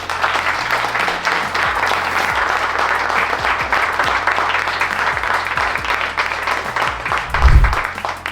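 An audience at a corporate talk breaks into sustained applause, dense steady clapping throughout, with a brief low thump near the end.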